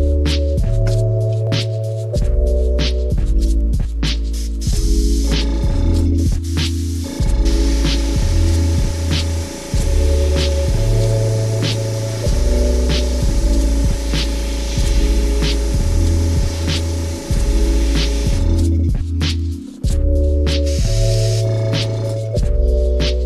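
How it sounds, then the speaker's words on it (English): A handheld blow dryer heat-dries freshly airbrushed paint on a custom crankbait fishing lure, giving a steady, loud whirring hum with a throbbing low undertone that runs through most of the stretch, with no talking. "So I have a blow dryer in my hand."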